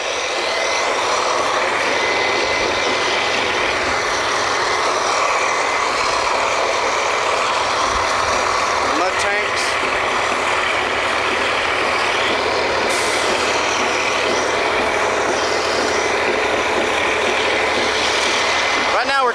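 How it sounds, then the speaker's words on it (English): Drilling rig mud pump and backup pump running, a loud steady mechanical roar with a constant low hum and broad noise, unbroken for the whole stretch, faint voices underneath. "Here's one of the mud pumps and the backup pump."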